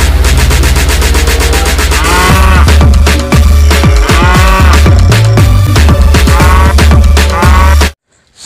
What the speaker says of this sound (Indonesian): Wow, seekor induk sapi